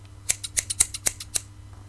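A pair of sharp scissors snips steadily through paper, cutting out circles in about nine crisp, evenly spaced clicks, close up and clear, with no talking.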